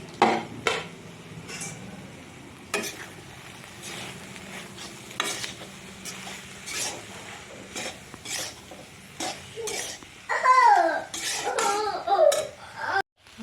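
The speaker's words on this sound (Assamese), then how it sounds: "এতিয়া ঢাকনখন উদঙাই মই এবাৰ লৰাই দিম" A spoon stirs a pot of curry made with masoor dal and greens, giving a series of distinct scraping and clinking strokes against the pot, with a soft sizzle underneath and louder, quicker strokes near the end.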